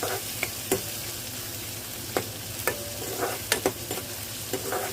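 Onion, ginger and garlic fry in a pan with a steady oily sizzle, punctuated every second or so by sharp scrapes and taps of a spatula stirring against the metal. No one speaks.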